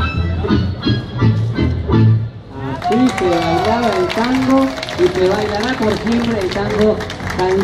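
Audience applause after a tango dance on a Buenos Aires night, a brief burst of clapping at the start that gives way to loud, close crowd chatter and voices for the rest.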